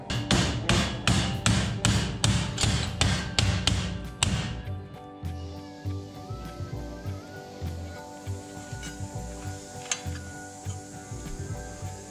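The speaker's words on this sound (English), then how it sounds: "then you can beat it with a hammer" A rapid series of sharp, ringing hammer blows on metal while working on an Opel Manta A, loud and close, followed by a quieter stretch of softer thuds and clinks.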